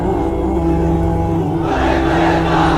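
A large crowd at a Bengali religious gathering shouts the takbir in unison, a loud, massed chant of many voices swelling toward the end.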